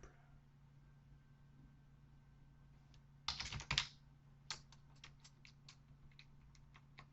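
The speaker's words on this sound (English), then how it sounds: "I'm terrible at typing." Quiet, irregular typing on a computer keyboard: a dense flurry of clacking keystrokes, then scattered individual taps over a low steady hum.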